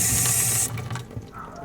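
Tap water runs strongly into a sink while a Berkey fluoride water filter is primed, a loud steady rush that cuts off partway, leaving a quieter dripping, gurgling tail.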